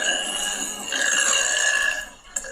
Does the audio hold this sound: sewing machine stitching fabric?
no